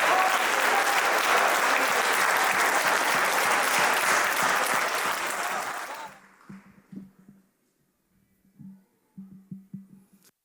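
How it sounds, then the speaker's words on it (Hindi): A mushaira audience greets a poet with a loud, dense burst of clapping that lasts about six seconds and then stops abruptly. Brief speech and a few scattered sounds follow in the quiet. "भरपूर तालियों में इस्तकबाल कीजिए।"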